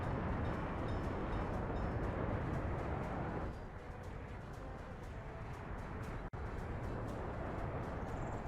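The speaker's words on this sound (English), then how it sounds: "We're pushing a lot of trains through there." Trains run continuously in the city-building game Workers & Resources: Soviet Republic, giving a steady broad rumble of rail traffic that eases slightly partway through, with a brief dropout near the end.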